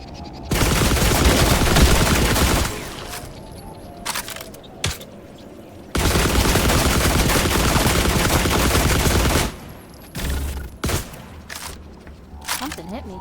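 Fire bullets shot from a gun in The Last Caretaker, heard as two long, loud sustained bursts of rapid crackling gunfire with a few single sharp shots between them, close and dominant.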